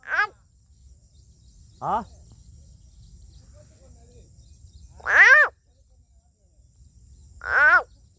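A big green frog calls four times, each a loud, short, tonal croak separated by pauses of a few seconds, close by over a quiet low background hum.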